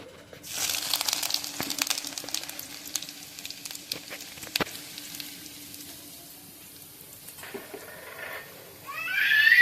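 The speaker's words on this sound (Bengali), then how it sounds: "এবার আমরা তেলের ভেতর আদা আর রসুন কুচিটা ঢেলে দেব" Chopped ginger and garlic hit reused hot oil in a pan and sizzle steadily and close, a broad hiss with a few crackles and pops running for several seconds, swelling louder again near the end.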